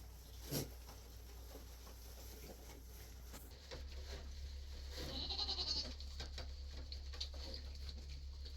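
A single goat bleats faintly in the distance partway through, against a quiet, steady outdoor background.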